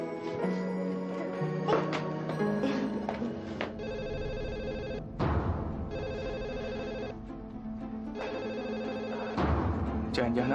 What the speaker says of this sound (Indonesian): Jangan-jangan Ana yang telepon.